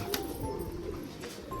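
Caged pigeons coo softly in low, murmuring calls with a few brief sharper chirps over a faint background hum.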